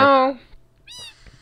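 Minecraft cat meowing, two short in-game meows half a second apart, the first fuller and the second thinner and higher, clear and near against near silence.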